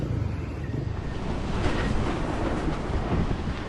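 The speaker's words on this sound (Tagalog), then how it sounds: "napakalakas ang hangin at panay ang ulan" Strong wind roaring and buffeting continuously at a night campsite in Dingalan, Aurora, Philippines, a dense rushing noise with rain mixed in, loud and steady with no voices.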